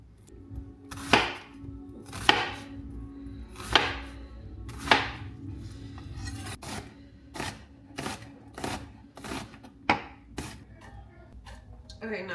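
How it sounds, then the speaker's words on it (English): Knife chopping a whole onion on a cutting board, a steady series of crisp, close chops about once a second, spaced irregularly and growing quicker toward the end. "we're gonna cut up this whole onion."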